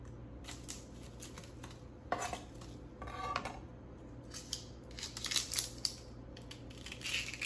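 A Cutco chef knife slicing through an onion on a board, giving a few crisp crunching cuts and scraping strokes over a steady low background hum, with no talking.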